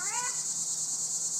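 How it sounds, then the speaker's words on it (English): Cicada buzzing as a continuous high, steady drone outdoors around an RV camp, with a brief faint birdlike chirp at the start and no talking. "I hope you like the cicada."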